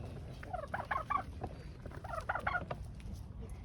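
A rooster crows twice in quick succession, close by and fairly loud over a steady low background rumble.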